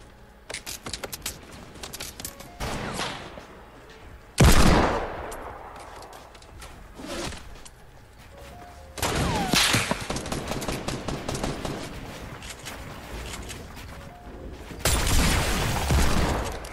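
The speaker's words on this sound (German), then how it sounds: "Die anderen schießen auf uns." Enemy gunfire in Fortnite rings out in repeated bursts, rapid cracking volleys and single loud shots separated by quieter gaps, some sounding close and heavy, others lighter and more distant.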